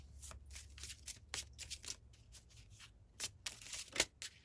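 Slippery tarot cards are shuffled by hand close up, a soft, papery riffling and flicking that comes in uneven bursts with short gaps, fairly quiet and with no voices over it.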